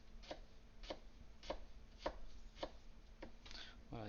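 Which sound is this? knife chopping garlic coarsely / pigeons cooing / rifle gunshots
knife chopping garlic coarsely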